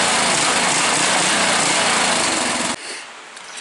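A Briggs & Stratton 14.5 engine fitted with an experimental carburetor revs loud and steady at high throttle for close to three seconds, then drops off sharply to a low idle.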